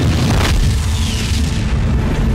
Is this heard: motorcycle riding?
no